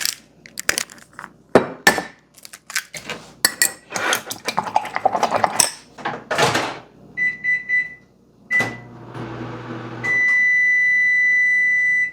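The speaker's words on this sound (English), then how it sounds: "all you need is a microwave for about a minute and toast them" Kitchen microwave oven toasting almond-flour bread, with clattering dish and utensil handling, a few sharp beeps, then the oven's steady hum starting and running to the end, close and fairly loud.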